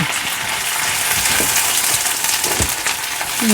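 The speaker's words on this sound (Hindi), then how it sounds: "तो ये लें जी गर्मा गर्म बटर के अंदर साग गया जी" Loud, steady sizzling of cold saag frying in hot butter, a dense crackling hiss with occasional pops and stirring sounds, close up.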